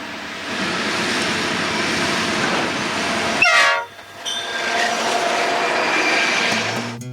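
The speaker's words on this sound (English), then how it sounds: "The engine runs at a consistent RPM of 893 and thus creates a loud engine noise" An Amtrak F40PH diesel locomotive running at a constant high engine speed, a loud sustained roar that cuts out briefly midway, then resumes with a tonal horn-like note.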